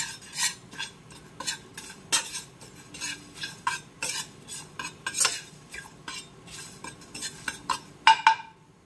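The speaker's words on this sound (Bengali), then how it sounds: "দিয়ে দিচ্ছি হলুদ, হলুদটা একটু রোস্ট হয়ে যাবে কিন্তু পুড়বে না।" Turmeric roasting on a hot tawa with the gas turned off, stirred with a metal utensil: repeated scraping and clinking strokes in an irregular rhythm, close and clear, over a faint background sizzle.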